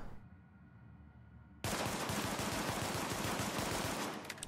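Sustained automatic weapon fire in The Division, a dense, loud burst of rapid shots beginning abruptly after a quiet stretch and continuing steadily to the end, with no voices over it.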